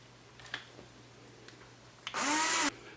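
A power driver briefly whirs as a 5/8-inch screw is run into a QuadLugs box quad frame, a single short loud burst after a few faint clicks and handling taps.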